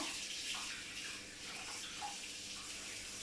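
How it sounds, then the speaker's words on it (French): A measuring spoon is rinsed under a running kitchen tap, with a steady close hiss of flowing water and light splashing for a few seconds and no voices. "Alors je vais juste rincer ma cuillère de 50, parce que j'en ai besoin."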